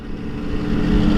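A Kawasaki Ninja two-stroke motorcycle engine drones low and steady, climbing slightly in loudness during a rough downshift without revving, heard close and alone.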